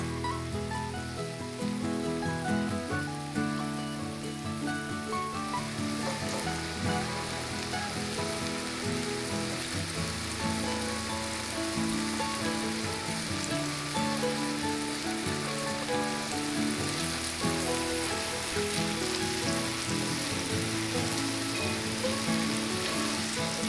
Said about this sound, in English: keep your eye on that caramel because it likes to bubble over